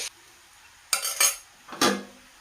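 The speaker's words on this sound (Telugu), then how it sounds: "ఉప్పు కూరకి సమానంగా కలిపే వరకు కలుపుకోవాలండి" A utensil scrapes and knocks against a pan while salt is mixed into a cauliflower masala curry, three short metallic stirring clatters close up, with no talk and little sizzle.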